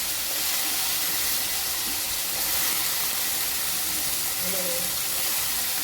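Washed brinjal dropped into hot oil tempering with spices for a dry vegetable dish, giving a loud, dense, steady sizzle and hiss that fills the whole stretch.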